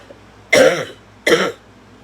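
Two harsh coughs, close and loud, separated by a short pause in an otherwise quiet room.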